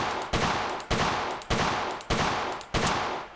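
Five loud, sharp shots from a Desert Eagle semi-automatic big-bore pistol, fired singly at a steady pace about every half second, each followed by a ringing decay.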